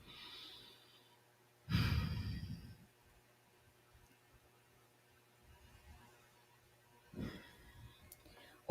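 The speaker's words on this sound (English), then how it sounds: "a deep centering breath, everyone" A deep, slow centering breath drawn in and let out during a guided energy-clearing meditation, a soft breathy swell near the mic with a second shorter breath later amid quiet room hum.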